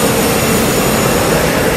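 Loud, continuous roar of a jet airplane engine at an airport, a dense broadband rush close by with no voices.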